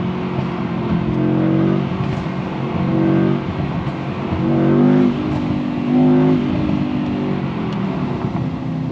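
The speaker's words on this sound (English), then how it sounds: "Oh, the pops and bangs are really loud on this one." A 2022 Mercedes-AMG E63S revs hard under full throttle, its loud engine roar rising and falling in several surges, with sharp exhaust pops and bangs crackling between the pulls.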